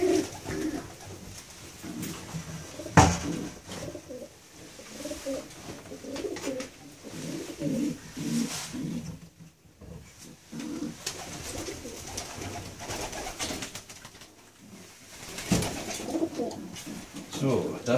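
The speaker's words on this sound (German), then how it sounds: "Eine sehr zutrauliche Taube, die sich mit dem Spiel auch schon ein bisschen auskennt." A female racing pigeon coos in soft, low repeated calls close by, interleaved with rustling and someone talking intermittently over the bird.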